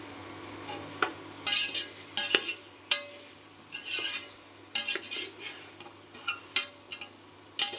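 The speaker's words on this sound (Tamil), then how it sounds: "காய் கொஞ்ச நேரம் வதங்கட்டுருக்கேன்." Potatoes, beans and carrots sauté in a pan for veg biryani, stirred with a metal spoon: irregular clinks and scrapes against the pan come in quick clusters over a faint sizzle.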